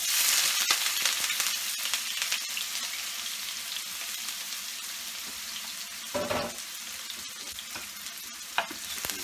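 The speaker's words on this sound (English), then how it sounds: "saute these, and now I've reduced the flame to medium" Chopped onions, about a cup, sauté over a medium flame as the base for a shrimp curry, giving a steady close sizzle and frying hiss with occasional stirring scrapes of the pan and no talking.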